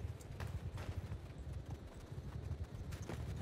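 Horses gallop in Mount & Blade 2: Bannerlord, a dense, quiet clatter of many hooves drumming steadily as if from a mounted group some distance off, with no speech over it.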